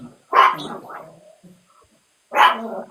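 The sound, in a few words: dog barking as family walks into house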